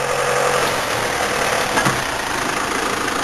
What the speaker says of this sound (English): We start with our big 8430 John Deere all-wheel drive tractor.